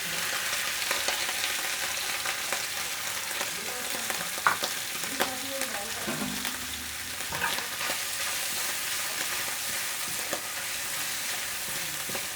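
Chicken sizzles and fries in oil in a pan for a home-style chicken bread roll, a steady dense crackle with occasional sharper pops and stirring sounds, close and continuous without talk.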